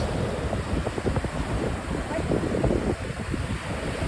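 Steady rushing surf and gusty wind buffet the microphone at Bournemouth Beach, United Kingdom, a continuous broad roar of sea and breeze at the shore.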